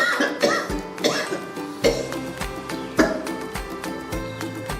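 An elderly mother who suffers from a cough and cold coughs repeatedly, about six harsh bursts at irregular intervals, close and fairly clear.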